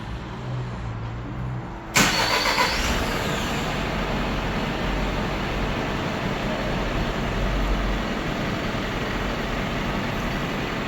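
A Hyundai All New Mighty truck's engine starts by remote, silence breaking into a sudden loud cranking burst followed by a steady rumbling idle that continues throughout, with no voices.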